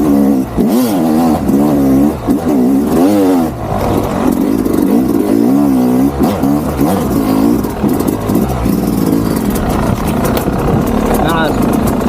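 A Yamaha YZ250X two-stroke hard enduro motorcycle climbs a rocky hill, its engine revving up and down in repeated loud, close bursts with clattering, under heavy wind-buffeted rider noise and some talk.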